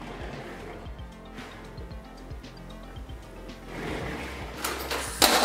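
A DJI RoboMaster EP Core robot works its gripper claw, giving a run of soft mechanical ticks and clicks over a low motor hum, growing louder toward the end with a sharper clack.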